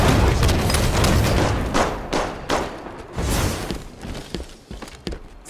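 Heavy gunfire in a Halo 5 multiplayer match, with a dense burst of loud, booming shots and impacts at the start, then scattered sharp reports and thuds trailing off.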